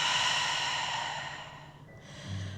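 A yoga instructor's long, audible exhale during a slow yin-yasa flow: one close breath out that starts strong and gradually fades, followed by a soft intake near the end, with no speech.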